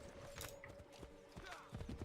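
A horse's hooves clip-clop faintly in Assassin's Creed 3 Remastered, a few uneven thuds under quiet game ambience in a short burst.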